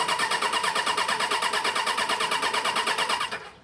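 A carbureted 2003 Suzuki Bandit 600 motorcycle, started for the first time after winter storage, cranks with a loud, steady, rapid churning of the starter for about three and a half seconds. The cranking then cuts off without the engine catching.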